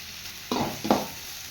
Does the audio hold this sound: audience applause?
no